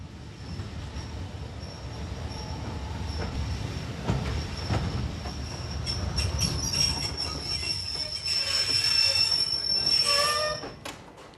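A train rumbles steadily along the rails, with wheels squealing high above the roar and clatter building toward the end.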